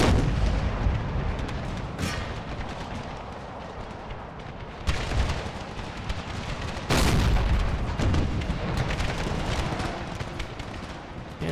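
Heavy artillery fire booms through a Civil War battle in an Empire: Total War mod, with dense overlapping cannon blasts and gunfire rolling continuously, sharp louder volleys bursting out near the start and middle, and no voices.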